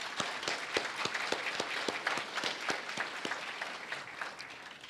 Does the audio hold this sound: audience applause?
yes